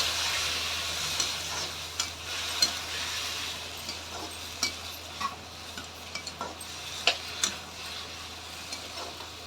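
Elephant foot yam fries in a pan, making a soft, steady sizzle with occasional light ticks and scrapes from stirring. The sound is moderately close and there is no talk.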